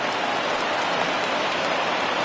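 Steady rain pours down during a baseball game, a dense, even hiss of drops on the field and stands holding constant for the whole stretch, with no voices over it.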